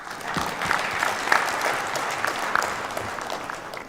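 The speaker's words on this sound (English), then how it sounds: "Can we have one more round of applause for Shiv, Khera, everybody?" Audience applause after an inspirational, motivational session on persuasion and prioritising skills, a steady wash of clapping from a crowd that holds at an even level for the whole stretch, with a few sharper claps standing out.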